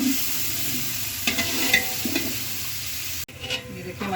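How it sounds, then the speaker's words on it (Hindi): Chicken pieces frying with cumin seeds in a pan, a continuous close sizzle with occasional stirring scrapes and a brief break near the end. "हमारा चिकन फ्राई हो गया"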